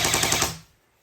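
Airsoft automatic electric guns hardwired into a vehicle fire a short rapid burst of about five shots close up, then cut off abruptly into silence.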